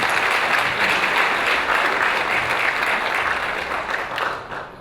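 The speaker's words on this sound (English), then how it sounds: "Can we give ourselves a big round of applause?" Attendees at a sales practice session give themselves a sustained round of applause, thick and fairly close clapping that stays loud throughout before tapering slightly at the end.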